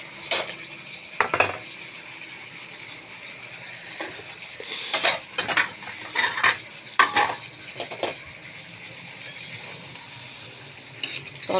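Dal bori dropped into a simmering vegetable curry, with a series of sharp metallic spoon and pot clinks scattered irregularly over a low bubbling sizzle, close and without talk.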